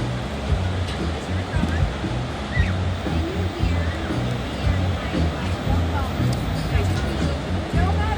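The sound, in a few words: beach ambience with waves and crowd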